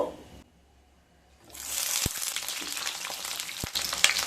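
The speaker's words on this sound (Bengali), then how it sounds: "প্রথমে বেগুনগুলোকে ভেজে নেব" Small eggplant pieces dropped into hot oil to fry: after a near-silent start, a bright hissing sizzle surges up and holds steady, with a couple of faint thumps and no talking.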